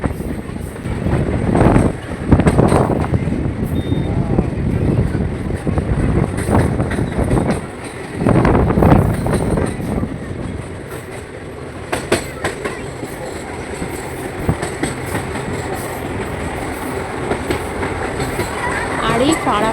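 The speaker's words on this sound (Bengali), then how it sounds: "মা রাস্তার রাস্তা দিয়ে ট্রেন যাচ্ছে" A train rumbles loudly across the long Farakka bridge, with continuous close rolling and clattering wheels, bursts of heavier noise and wind buffeting, and voices faintly under it.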